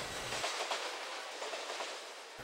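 A toy train sound effect made for a small embedded sound player, a steady rushing hiss of rolling train noise with faint rhythmic clatter, fairly quiet and alone.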